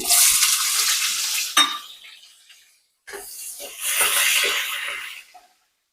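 Cut onion hits hot oil with tempering seeds for an Andhra-style egg gravy, making two loud bursts of sizzling and crackling separated by a short silent gap, each fading as it settles.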